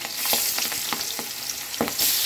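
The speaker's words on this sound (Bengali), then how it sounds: "এখন আমি মাছগুলো সুন্দর করে ভেজে নেব" Air fish frying in hot oil in a wok, a steady broadband sizzle with spitting crackles and a few clinks of a stirring utensil, close and continuous.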